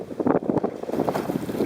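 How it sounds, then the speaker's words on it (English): Strong wind buffets the microphone while kayaking in choppy open sea near Anacapa Island, loud gusty rumbling and flapping bursts mixed with water wash, steady with no talk. "It's pretty dang windy."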